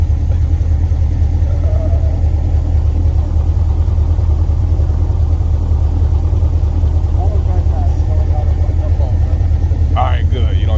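A 1967 Lotus 7 engine runs with a steady low rumble throughout, loud and constant, as people talk over it inside the open car.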